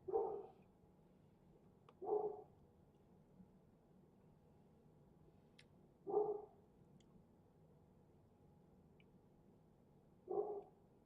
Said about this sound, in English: you hear Bentley barking in the background.